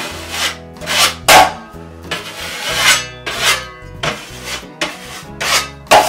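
A scraper drags excess joint compound off a drywall hole patch in a series of loud, close, rasping strokes, about ten uneven scrapes with short gaps between them, and no talk.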